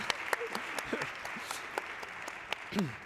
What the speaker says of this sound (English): I think he deserves a little of applause from the audience